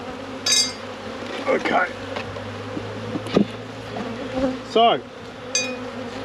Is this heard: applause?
no